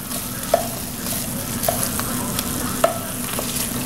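Onions and summer squash sizzle steadily in a hot pan while a utensil stirs them, with three distinct scraping clacks at regular intervals, close and without talk.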